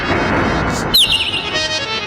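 Chirping sound effect for a fleeing baby parrot, a single bright, quick bird chirp that sweeps downward and stands out over a soft background wash.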